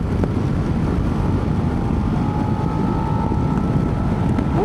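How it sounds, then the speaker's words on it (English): Steady, loud wind roar buffeting the rider on a 2026 Suzuki SV-7GX motorcycle with its windscreen in the upper setting, a continuous broadband rush with a faint engine tone running beneath it. "as you can hear, that is there's quite a lot of wind noise"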